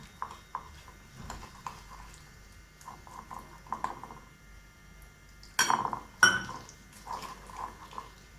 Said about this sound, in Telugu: ఉండలు లేకుండా కలిపి పెట్టుకోవాలండి.